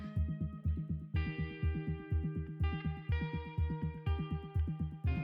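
Music plays quietly in the background, a repeating pulsing rhythm of bright electronic-sounding tones with no voices over it.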